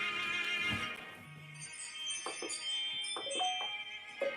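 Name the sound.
bell ringing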